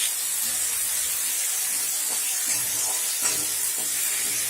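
Small fish cooking in a hot pan for chorchori give off a steady, fairly loud hissing sizzle throughout, with a few faint scraping knocks from stirring scattered across it and no voices.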